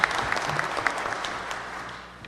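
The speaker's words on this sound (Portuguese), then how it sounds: "Uma salva de palmas." An audience at a public-management seminar claps steadily for a guest professor for a couple of seconds, a dense, even patter of many hands that tapers slightly at the end.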